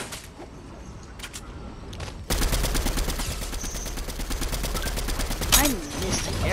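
Rapid video game gunfire, a dense stream of automatic shots that bursts in loud after a quieter stretch and keeps rattling continuously, with a voice faintly underneath.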